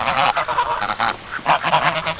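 Geese honking as they chase ducks away from a backyard kiddie pool, a close, loud run of repeated harsh honks in uneven bursts with some quacking mixed in.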